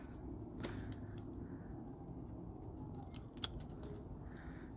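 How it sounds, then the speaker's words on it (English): Secateurs snip camellia topiary branches outdoors, giving a few faint, sharp clicks spaced apart over a quiet background. "Again, turn my secateurs upside down, get a bit of cut to there."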